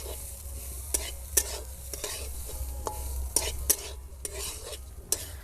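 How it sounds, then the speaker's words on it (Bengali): Raw rice dry-roasting in a pan over low heat, with a quiet dry rustle broken by sharp intermittent scrapes and taps of a stirring spoon, close and alone. "এই চালটা ভাজার সময় সব সময় উনানের জালটা হালকা দিয়ে দিতে হবে।"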